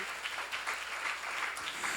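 Congregation at a church seminar clapping together, a fairly faint, continuous patter of many hands heard from a distance for about two seconds.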